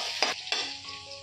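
Garlic and green chili sizzle in hot oil in a home kitchen, with two quick stirring scrapes of a utensil against the pan over a steady, close frying hiss.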